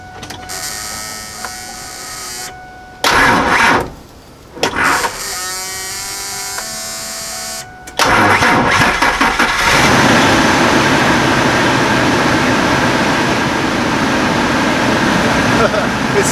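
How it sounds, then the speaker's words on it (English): A cheap old pickup truck's engine is jump-started, cranking with a whirring starter in short bursts, then catches and roars to life, settling into a loud, steady idle. "let's see if it'll just jump start"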